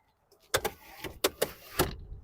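A motor whirs in short bursts with soft clicks and thumps as the electric sun blind slides inside a 2012 Skoda Superb, close by and otherwise quiet.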